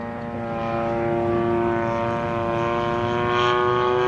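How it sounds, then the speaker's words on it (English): A Seagull Models Gilmore Red Lion RC plane with a 35cc engine flies overhead with a steady, loud propeller drone that swells slightly as it nears, with no talk over it. "Engine's running pretty good."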